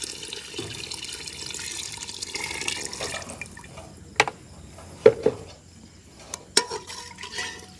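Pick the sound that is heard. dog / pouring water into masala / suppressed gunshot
pouring water into masala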